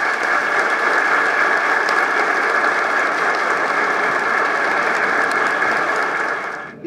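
Large audience gives a loud, sustained round of applause for Hugo Chávez, a dense, even roar of clapping that holds steady for several seconds before tapering at the end.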